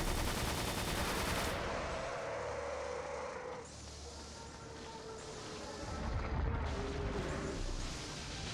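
Missile fire from a boss in a video game, a sustained roaring barrage of blasts and explosions that thins briefly in the middle before surging again, loud and layered.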